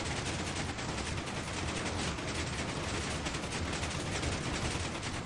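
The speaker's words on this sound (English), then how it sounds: "He's not supposed to just keep firing indefinitely." A video game character fires without pause, producing a quiet, unbroken rattle of rapid shots that stays at an even level throughout.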